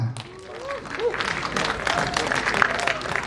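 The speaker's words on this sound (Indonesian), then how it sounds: "Boleh berikan tepuk tangan sekali lagi teman-teman" An audience claps at an Indonesian film press conference, a steady, moderate patter of applause from a crowd, while a host speaks over it.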